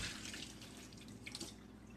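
Water runs from a sink tap over organic baby spinach being rinsed, a steady splashing flow with small irregular spatters, close and fairly quiet, with no talk.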